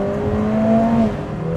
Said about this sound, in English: This 4-cylinder, of course, is a 2-liter AMG engine.